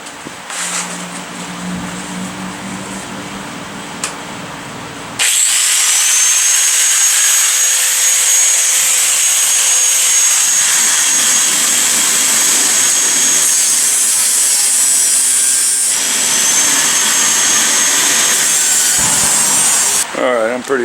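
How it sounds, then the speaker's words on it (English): An angle grinder cuts along the steel firewall of a 1973 Ford Bronco, a loud, steady high-pitched whine and grind running unbroken for about fifteen seconds after a quieter start with brief handling noise. "I'm going to grind off along the bottom edge of that tape"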